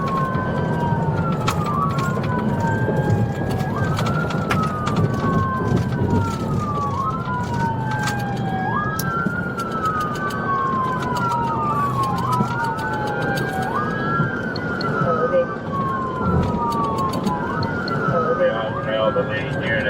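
A wailing police siren rises and falls in repeated sweeping cycles during a vehicle pursuit on an interstate, loud and continuous over road and engine rumble, with radio chatter mixed in underneath.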